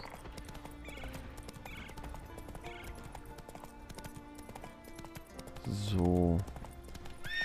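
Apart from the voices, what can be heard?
horse hooves while riding, from video game The Witcher 3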